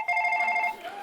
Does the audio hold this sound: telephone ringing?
yes